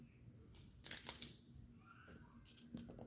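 A vegetable is peeled by hand before being cut for dinner, giving a few short, faint scraping snips close by in a quiet room.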